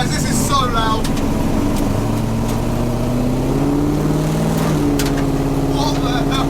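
A 750bhp Mk1 Ford Escort runs loud and constant, its engine note rising steadily as it drives, heard from inside the bare cabin while someone talks over it.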